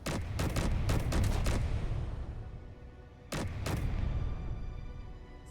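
Turret gunfire from a heavily armed ship in Space Engineers, a rapid cluster of sharp shots followed by a pause and then two more, each with a rumbling low tail fading between bursts.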